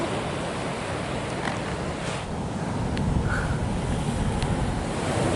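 Ocean surf breaks on a long beach in Samoa as a steady, loud roar of waves, heavily mixed with wind buffeting the microphone throughout.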